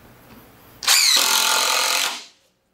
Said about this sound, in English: Watch how quick this impact driver drives this drywall screw